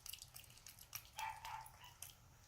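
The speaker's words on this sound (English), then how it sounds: "Hear that dog out there barking" A dog barks outside through an open window, several short, faint barks spaced unevenly at a distance, with quiet room noise and no talk.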